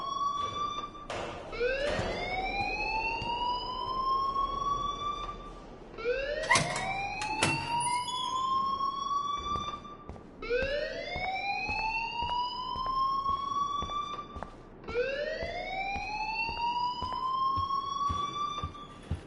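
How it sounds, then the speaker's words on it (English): Alarm in the video game Life is Strange sounds loud and close in repeated rising, whooping siren sweeps, about five cycles in steady succession with short gaps between, and no one speaking over it. "please turn off that alarm since that's your job"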